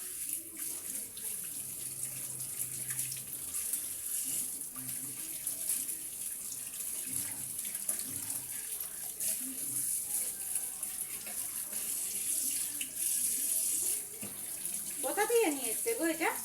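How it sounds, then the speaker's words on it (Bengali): Tap water runs steadily into a sink while mutton is washed, a constant close hiss that lasts throughout, with quiet voices talking underneath. "মাটন নিয়ে এসছে, মাটন ধুচ্ছি।"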